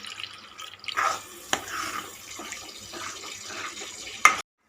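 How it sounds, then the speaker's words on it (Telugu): Water is poured into a paneer curry gravy, giving a soft, uneven splashing and trickling over about four seconds that ends in a brief louder splash. "ఇందులోకి కొంచెం వాటర్ని గ్రేవీకి సరిపడా వాటర్ని చూసి యాడ్ చేసుకోవాలి"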